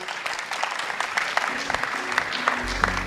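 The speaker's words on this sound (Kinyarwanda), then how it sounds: "Reka dukomere Imana amashyi." A church congregation applauding in praise of God, a continuous wash of hand clapping from many people, moderately loud, with faint voices underneath.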